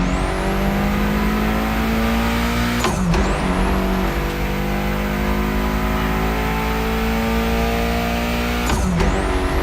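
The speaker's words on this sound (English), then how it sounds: "Mitsubishi gave us a nice inline four-cylinder with already 280 horsepower" Mitsubishi inline four-cylinder of about 280 horsepower in The Crew Motorfest, revving hard and steadily with a rising whine, cut by two brief gear-shift dips before climbing again, loud and close with no talk.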